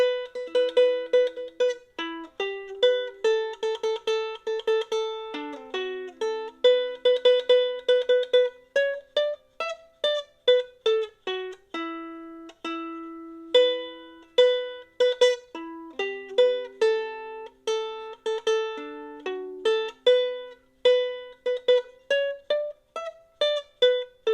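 A GCEA-tuned ukulele plucks the top notes of 'Drunken Sailor' as a simple single-note melody, bright and clear, with steady rhythmic notes continuing without pause and no voices.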